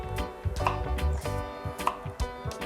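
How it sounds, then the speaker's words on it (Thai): A knife rapidly slices garlic chives on a cutting board, quick irregular knocks close by, with faint musical tones underneath. "เราก็มาซอยกระเทียมจีนกันค่ะ"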